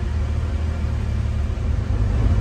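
The engine of a 1954 Chevy rat rod truck idling on a cold, snowy day, heard from inside the cab as a steady low rumble with no voices.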